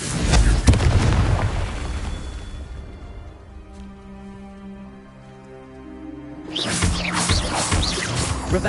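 A Confringo blasting spell explodes in the video game Hogwarts Legacy, a loud booming burst followed by a rumbling decay and then a second bright blast near the end.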